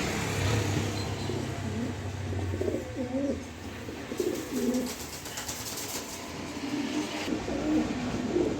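Fancy pigeons cooing in repeated soft, throaty rolling calls close by, over a constant background hum and some rustling.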